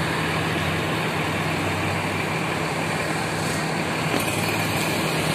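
A Mitsubishi engine idles at the rear of a Sentosa medium bus with Cipta Karya bodywork, giving a steady, dense rumble with a low hum. It stays constant and close, with no voices.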